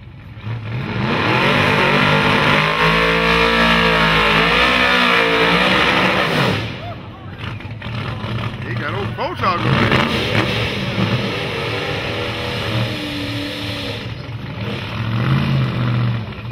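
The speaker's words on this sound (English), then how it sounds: "We got a big body, a real big body over there with a pro charger," At a drag strip, a big-body drag racing car with a ProCharger supercharger revs loudly: rising and falling engine sweeps over heavy rumble, with a brief dip before more revving, close and dominant amid outdoor noise.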